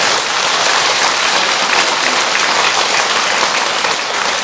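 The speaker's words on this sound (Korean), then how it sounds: "우리 주지 스님한테 불사 잘하고 박수 한번 쳐주시고" Sustained audience applause for the head monk at a Buddhist dharma assembly at Beomeosa temple, dense steady clapping from a crowd filling the whole stretch without a break.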